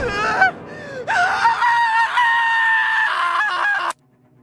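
A character's scream in a horror mystery game, loud and high-pitched, rising and wavering for several seconds before cutting off abruptly, with no talk over it.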